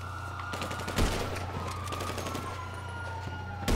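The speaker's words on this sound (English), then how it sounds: "He's shooting at me." Bursts of rapid gunfire ring out in GTA Online, with dense, overlapping shots running steadily through the stretch and a louder blast near the start, with no talk.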